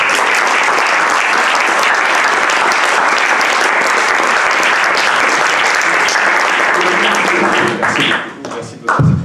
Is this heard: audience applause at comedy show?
yes